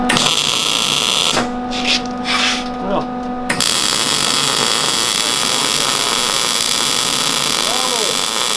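A welder runs on a go-kart solid axle, a loud continuous buzzing hiss that cuts out briefly for a steadier hum before resuming, with talking heard underneath.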